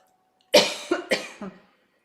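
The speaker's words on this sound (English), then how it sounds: "Everybody cough, because Hathor is the throat." Two quick pairs of coughs sound close and clear, each a harsh burst followed by a softer one, then silence.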